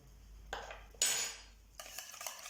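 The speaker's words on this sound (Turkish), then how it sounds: "Hafiften bir karıştırıyorum." Salt is stirred into water in a kneading bowl while preparing crepe batter: a few clinking scrapes of a spoon against the bowl in short bursts, close up and fairly quiet, with no talking.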